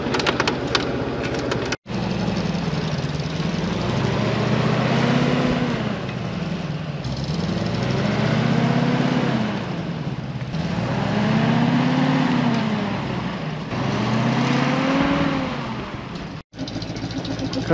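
A DT-75 crawler tractor engine runs while driving, a loud steady diesel drone that swells and eases in slow cycles as the load changes, with two brief dropouts in the sound.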